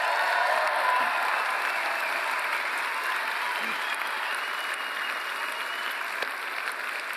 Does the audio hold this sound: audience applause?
yes